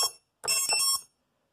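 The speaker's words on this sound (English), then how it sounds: "I'm going to activate my beeper switch." A quadcopter's electronic beeper, tested with props removed indoors, gives one short beep followed by a longer chirping burst of rapid tones, then falls silent.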